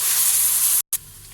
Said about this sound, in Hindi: लहसुन अदरक का पेस्ट डाल देंगे, इसको भी अच्छी तरह से भून लेंगे।